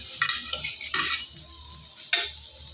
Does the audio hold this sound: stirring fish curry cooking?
yes